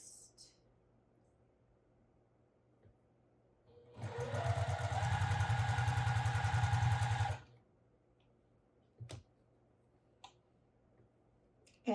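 A sewing machine stitches a patchwork block together in one steady, rapid mechanical burst of about three seconds, close and fairly loud, with quiet handling clicks before and after and a person speaking nearby.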